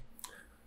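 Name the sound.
mouse click in WinOLS software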